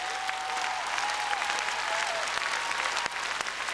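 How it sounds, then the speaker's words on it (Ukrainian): Audience applause fills a concert hall at a jubilee concert in the Kremlin, a dense, steady clapping that carries through without pause. "хочу купаться в ваших аплодисментах."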